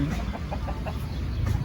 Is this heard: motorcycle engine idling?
no